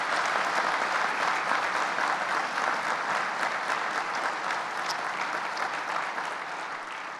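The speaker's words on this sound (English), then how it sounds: "I want to give them again another round of applause." A round of applause for a university football team's young men at a coaching introduction event, dense and steady from a large crowd, loud and continuous throughout before tapering slightly at the end.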